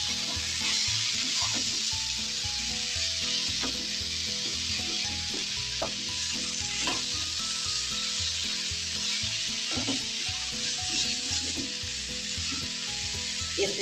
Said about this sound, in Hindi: ये चिकन इस तरीके से ऐड कर देंगे और 2 या 3 मिनट अब इस मसाले के साथ इनको पकाएंगे